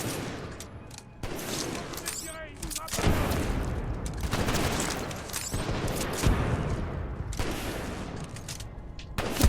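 Rapid rifle fire in the Titanfall 2 video game, with dense bursts of shots and explosive booms throughout, mixed with in-game sound effects and voices.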